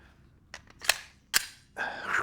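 A Glock pistol fitted with a brass backstrap fires two loud, sharp cracks about half a second apart, preceded and followed by fainter clicks and a rising rustle.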